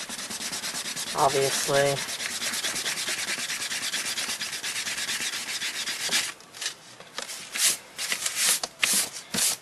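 A clay eraser rubs out light pencil marks on paper in a steady, close scratchy scrubbing for about six seconds, then breaks into short uneven strokes; a voice briefly speaks near the start.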